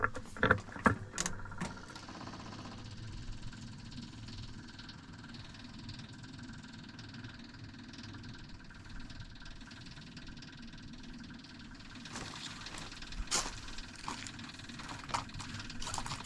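Ventrac tractor engine idling nearby, a steady low mechanical rumble held throughout, with a few clunks and knocks at the start and again near the end.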